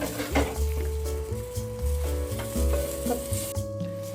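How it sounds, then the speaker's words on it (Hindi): Butter melts in a hot handi with a soft, continuous sizzle close by, mixed with light scraping and clinks of a spoon against the pot and steady background hum. "अब हम इसमें मक्खन डाल देंगे। मक्खन को मेल्ट होने देंगे।"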